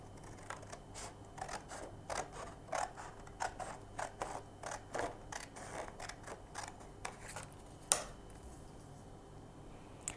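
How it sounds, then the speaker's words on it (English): Repeated crisp snips of scissors cutting a paper triangle, a quick steady series of short clicks, close and fairly quiet, with one sharper snap near the end. "we'll take our pair of scissors and cut this triangle"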